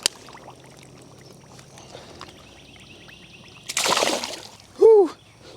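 A bass released back into a small pond makes a brief splash of pond water near the end, after quiet outdoor ambience and a short rustle; a faint voice may be heard.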